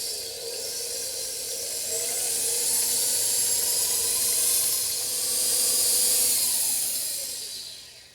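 An electric mixer beats egg and vanilla extract into gluten-free pecan brownie batter, giving a continuous close whirring hiss that swells slightly in the middle and fades toward the end, with no voices.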